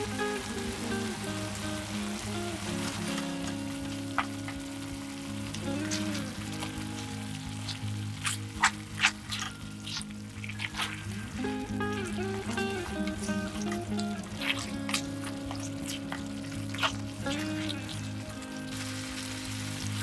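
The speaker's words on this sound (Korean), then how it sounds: "이제 준비한 토마토 소스와 건바지를 넣고 모든 재료와 소스 그리고 면을 한꺼번에 볶아줍니다." Pasta tossed in a pan with tomato sauce and webfoot octopus gives off a steady, soft sizzle with light stirring. A voice and other tonal sounds sit over it throughout.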